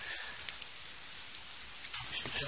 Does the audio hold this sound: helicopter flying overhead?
no